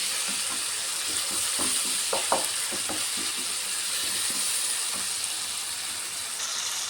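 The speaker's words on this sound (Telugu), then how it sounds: "పసుపు కారం చావదుంపుడు వేసేసుకున్నాను జస్ట్ ఎన్ని కలిపిలా ఒకసారి తిప్పుకుంటున్నాను" Onion paste, tomato, turmeric, chili powder and dried prawns sizzle steadily in a pan, while a spoon scrapes and stirs in a run of soft clicks and scuffs, close and continuous, with no speech.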